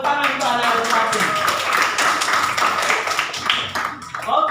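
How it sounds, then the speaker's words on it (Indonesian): Classroom applause for a student, a burst of many hands clapping in a quick uneven patter that fills the room, with children's voices mixed in. "tepuk tangan untuk anak Al-Fatin."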